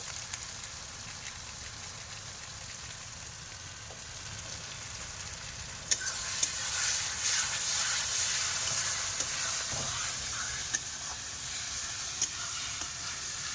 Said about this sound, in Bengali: মশলাটা কিন্তু খুব ভালোভাবে কষাই করব